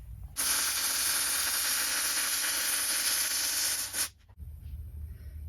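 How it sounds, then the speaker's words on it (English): Spray-transfer MIG welding with 75/25 shielding gas, a loud, steady, bright hiss with fine crackle lasting about four seconds before cutting off abruptly, followed by quiet room noise. "this next weld is going to be spray with 75/25, attempting to make it smooth"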